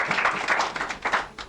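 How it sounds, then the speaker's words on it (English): A studio audience on a Nigerian call-in radio programme claps in a short, lively burst of scattered hand claps with a bit of background murmur. "Let's clap for him."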